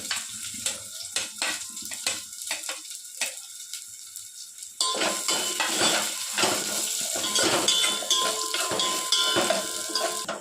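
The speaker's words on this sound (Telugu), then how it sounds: "ఇప్పుడు మనం ఆనియన్, పచ్చిమిరపకాయలు వేసుకొని ఫ్రై చేసుకుందాం" Onions and green chillies going into a pan of fried cumin for a spicy okra masala curry, with clattering utensil knocks and scraping stirs giving way to a loud, steady sizzle of frying, close up, no voices.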